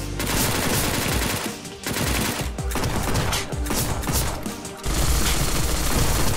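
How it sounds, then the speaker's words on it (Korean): Dense, loud gunfire from a shotgun and an assault rifle in the 2D battle royale web game surviv.io, rapid bursts and blasts running almost continuously with brief gaps. "이게 샷건부터 쏘고 그 다음에 AR로 바꿨었는데"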